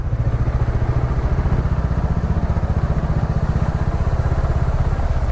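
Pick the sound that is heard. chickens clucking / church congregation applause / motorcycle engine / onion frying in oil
motorcycle engine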